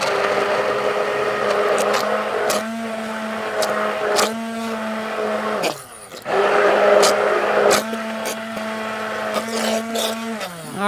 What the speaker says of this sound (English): I know that the stick blender is going to do its job and puree it for me